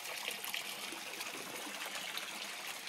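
Water trickles steadily through the filter of a home aquaponics fish tank, a soft, even broadband splash that runs close and continuous with no voices over it.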